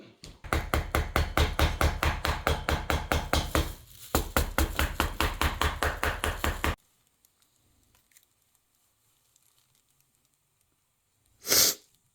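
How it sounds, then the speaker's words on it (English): A rapid run of sharp hammer blows on a shoe sole, about two dozen strikes in quick rhythm with a brief pause, then quiet and one short hiss near the end. "I'll hammer it out."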